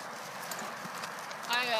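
Hooves clip-clop in a riding arena as a horse moves at an easy pace, light rhythmic thuds under someone speaking nearby.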